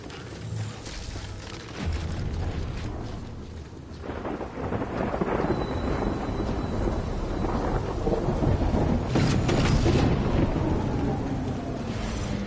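Thunder rolls through a steady downpour in a video game set in Port Knot City, with heavy rain hissing continuously and deep rumbles that swell louder toward the end; no voices.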